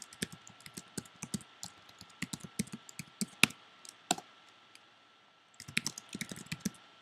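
Quick, uneven keystrokes on a computer keyboard entering git commands, close and crisp, in bursts with a short pause near the end before another flurry of taps; no voice.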